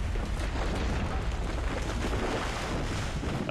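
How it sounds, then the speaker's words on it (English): Explosion in Dungeon Siege III, heard as a dense, steady roaring rumble with crackling debris that stays loud and even throughout, with no voices. "I thought they were gonna die in that explosion"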